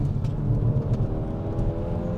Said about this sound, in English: start driving this car